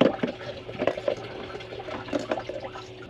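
Water runs and splashes into a container for boiling for a few seconds, a steady trickling fill with small bubbling spurts, outdoors on a road trip along the Hawkesbury River, Australia.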